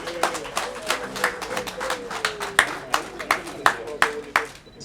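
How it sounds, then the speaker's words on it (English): An audience claps hands at a community donation event held by a prison service, with scattered, uneven claps repeating for several seconds under a voice speaking over them. "we can clap our hands"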